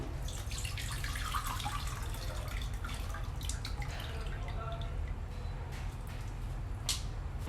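Tamarind water dissolved in three-quarters of a cup of water is poured into a pan for pani puri, with a faint, soft trickle and dripping under a low background hum.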